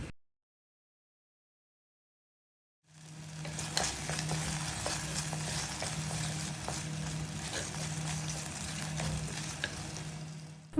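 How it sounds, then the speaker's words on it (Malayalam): Okra sizzles and fries as it is sautéed and stirred in a pan, a steady crackling hiss with scattered stirring clicks after a few seconds of silence. "നമ്മൾ 1-2 മിനിറ്റ് ഇതേപോലെ ഒന്ന് വഴറ്റിയെടുക്കുമ്പോൾ തന്നെ വെണ്ടക്കൻ്റെ ഒരു കൊഴുപ്പൊക്കെ ഒന്ന് മാറിക്കിട്ടും."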